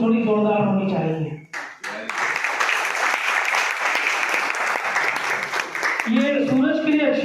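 Audience applause fills a police honour ceremony hall, a loud, dense burst of clapping lasting several seconds, with someone speaking just before and after it.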